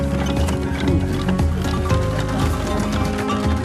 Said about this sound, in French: C'est la première fois que je monte dans une charrette.